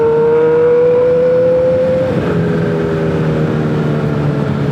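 A motorcycle engine runs close and loud, its note holding steady before dropping in pitch halfway through, then droning on evenly.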